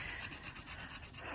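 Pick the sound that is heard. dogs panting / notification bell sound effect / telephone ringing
dogs panting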